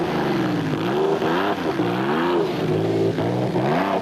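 A Nashua Mobile rally car engine revs hard through a 2006 Lesotho Sun 400 stage, its pitch rising and falling in repeated surges, loud and close, with no voices.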